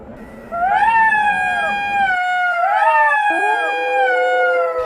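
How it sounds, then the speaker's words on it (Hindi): Jackal howling in a farm field, two long rising-and-falling wails in a row, loud and close, the second overlapping the first's fade, with no talk. "सियार की आवाज खेत के कुछ दूरी पर रहने वाले किसान के कानों में पड़ गई"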